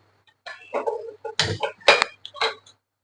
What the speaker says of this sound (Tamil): தோசை சுடுறதுக்கு தோசை தவா அடுப்பில் வச்சுக்கலாம்